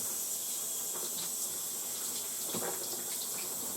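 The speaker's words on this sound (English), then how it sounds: "I think I should have washed them, but let me wash these a little." Seafood legs for a gumbo are rinsed under a running kitchen tap, a steady close hiss of water splashing into the sink without pause and with no talk.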